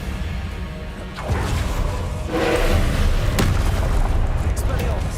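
Confringo blast spells from the game Hogwarts Legacy go off as booming, crashing impacts, with a couple of sharp bursts amid a continuous rumble of game sounds and a player's voice.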